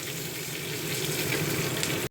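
Sliced onions frying in hot oil after a tempering of nigella seeds and dried red chillies, a dense, even sizzle close up with faint stirring, ending abruptly.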